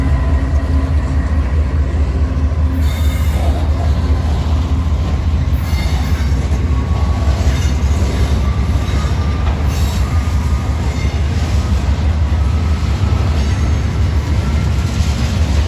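A freight train rumbles steadily past up close in Decatur, Alabama, with a continuous low roar, rattling cars and occasional faint wheel squeals, no voices.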